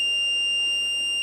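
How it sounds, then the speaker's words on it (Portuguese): A multimeter gives a steady, unbroken high beep on continuity test across a shorted varistor, a clean continuous tone held throughout over faint low background noise. "vai soar o bip"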